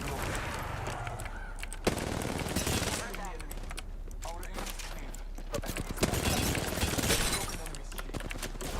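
Rapid gunfire from a first-person shooter video game, with dense bursts of automatic shots and impacts running steadily throughout, mixed under continuous talking.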